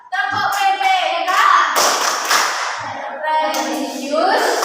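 Pupils in an Indonesian primary classroom perform the rhythmic tepuk PPK clapping chant, sharp hand claps and thumps in a patterned beat mixed with chanted voices, loud and close throughout.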